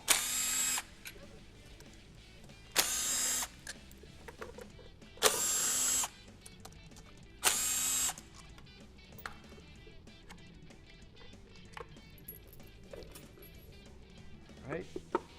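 A power tool runs in four short loud bursts, spaced about two seconds apart, backing out the 8mm bolts on a Honda XR650R stator cover, with someone talking quietly between the bursts.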